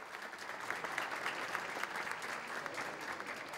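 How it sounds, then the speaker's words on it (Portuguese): Sustained applause from an audience at a plenary session of a legislative chamber, a dense, even patter of many hands clapping at moderate volume throughout. "recebe também a salva de palmas"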